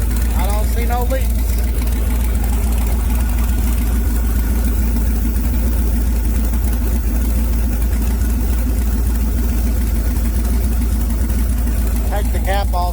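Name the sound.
LS swap engine idling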